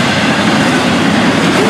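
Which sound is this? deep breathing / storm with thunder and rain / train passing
train passing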